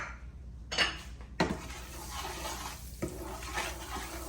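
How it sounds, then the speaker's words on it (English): A utensil stirs seasoned oil with black pepper and all-purpose seasoning in a pot for Jamaican-style rice, making a few sharp scraping knocks and clinks over a soft background sizzle. "You just want to stir it around."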